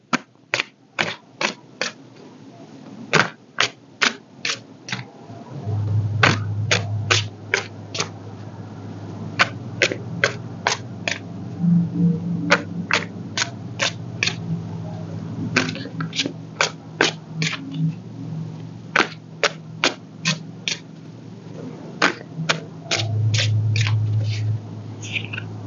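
Tarot cards being shuffled and handled up close, with crisp, evenly spaced snaps and flicks repeating throughout and a couple of softer riffling stretches in between.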